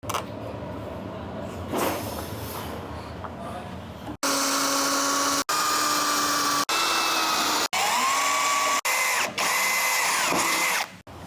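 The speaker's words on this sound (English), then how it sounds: "we'll get that riveted on" Riveting canvas onto a Land Rover Defender: a run of loud, steady power-tool whines, each burst a second or so long and cut off sharply, coming one after another close by, after a quieter stretch of low workshop background.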